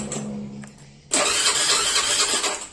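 A Honda Beat FI scooter with a total electrical failure is cranked but does not start. A low hum gives way to an abrupt, loud, steady starter whir that runs for about a second and a half, very close.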